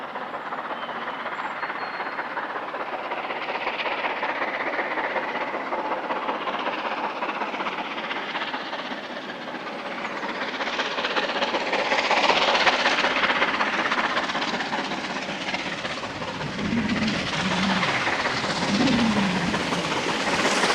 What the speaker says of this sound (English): Here the loco mounts Gomshall Bank with a run for Hertfordshire rail tours on the 12th of May 2005.